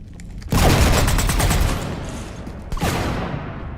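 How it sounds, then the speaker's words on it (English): Heavy gunfire rakes a ship in the video game Mass Effect 3, a dense loud fusillade of rapid shots bursting in, thinning, then a second burst near the end, with no talk. "You want to stop shooting up my ship?"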